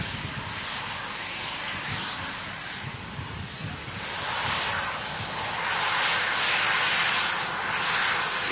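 An arriving Ryanair Boeing 737 NG with retrofit winglets produces a broad jet rumble and whine that swells gradually, mixed with gusty wind noise on the microphone.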